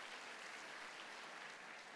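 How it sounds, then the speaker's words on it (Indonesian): A church congregation applauds steadily for the full stretch, a dense wash of many hands clapping at once, fairly faint and distant, with no talk over it. "Tepuk tangan buat jemaat yang luar biasa."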